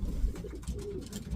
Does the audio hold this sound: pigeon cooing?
yes